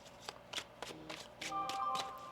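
Tarot cards being shuffled by hand, a run of soft, quick riffling bursts repeating every half second or so, close and faint with no talk.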